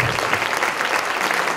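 Audience applause after a church festival concert, dense even clapping from a crowd indoors, brief and loud with no voices over it.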